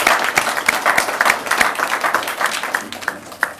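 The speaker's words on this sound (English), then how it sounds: "So let's have a round of applause for Meg." Steady audience applause fills an evening gathering about climate change response, dense overlapping claps with sharp individual hits throughout, fairly close and loud, no talk over it.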